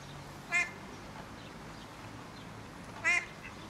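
Two short duck quacks, several seconds apart, clear against a quiet outdoor background.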